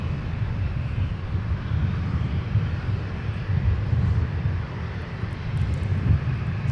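A Sun Country airliner taking off on runway 17 at Minneapolis–Saint Paul airport, its engines a steady, loud roar that holds level across the whole stretch, with no voices.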